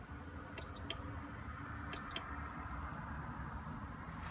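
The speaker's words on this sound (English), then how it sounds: "I'll set my timer to like 10 minutes" A George Foreman electric grill's control panel gives two short, high electronic beeps about a second apart while its timer is set, over a steady low hum of cooking.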